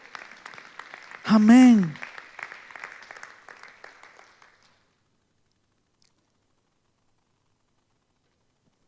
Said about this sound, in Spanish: denle un aplauso también